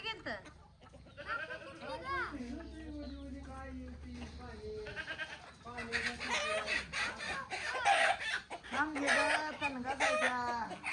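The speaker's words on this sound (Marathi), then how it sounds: "कशा आहेत कोंबड्या" Chickens and a rooster cluck and call in a village yard. Their fairly close calls mix with people talking nearby, and the clucking grows busier in the second half.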